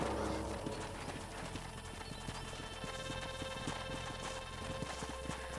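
Horses gallop in the Red Dead Redemption video game, a fast, continuous clip-clop of hooves over steady background ambience and faint game sound.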